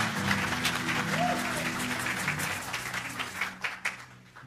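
Congregation clapping at a church gathering with a prophet preaching, a dense wash of claps and crowd noise alongside voices, then sparser individual claps toward the end.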